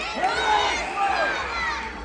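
A large concert audience in Philadelphia claps and cheers for a singer, a loud, sustained wash of applause with whoops and shouts rising and falling, no clear speech.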